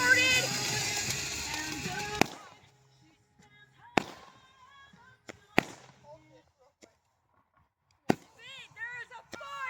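A firework fountain sprays loudly for about two seconds at a backyard cookout, then cuts off, followed by scattered sharp pops and crackles with a voice talking between them.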